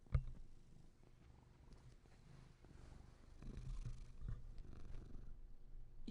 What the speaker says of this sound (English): You can probably hear him purring.